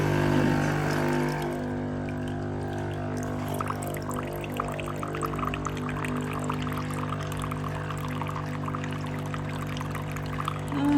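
A coffee machine dispenses hot water in a steady pouring stream with a constant mechanical hum underneath, close and fairly loud, continuing unbroken throughout.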